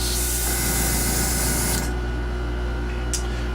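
Airbrush hisses steadily, spraying paint onto a 1/1400 Kestra model kit; the loud airy spray runs nearly two seconds, cuts off, then a brief second burst follows over constant compressor hum.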